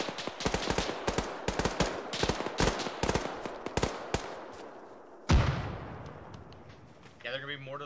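Video-game battle audio: a rapid burst of sharp gunshots at irregular intervals, then a loud frag grenade explosion with a deep boom and decaying rumble, followed by further faint gunfire.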